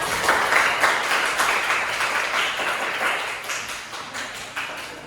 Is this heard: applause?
yes